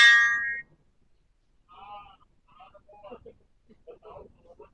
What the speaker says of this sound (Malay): Dia bunyi loceng tu bermakna boleh lah